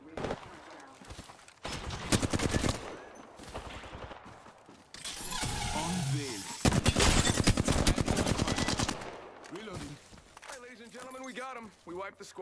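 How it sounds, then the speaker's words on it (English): Rapid automatic gunfire bursts in Apex Legends, loud and dense, repeating in several volleys over a battle soundscape, with voices talking intermittently between and under the shots. "Opening fire."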